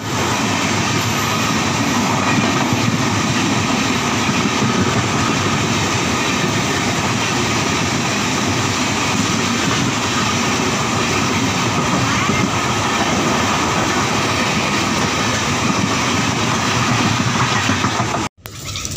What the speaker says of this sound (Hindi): तो यहाँ पर कोई ट्रेन पास हो रही है